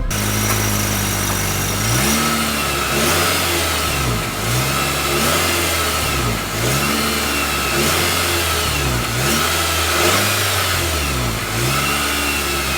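A 2025 Nissan Kicks accelerates hard, its engine and exhaust droning loud and close as the revs climb and dip repeatedly with each gear change over about thirteen seconds, and no one speaks.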